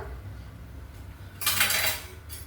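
Corn chivda with powdered sugar being stirred in a pan gives one short, crisp scraping rattle of flakes against metal over a faint, quiet background.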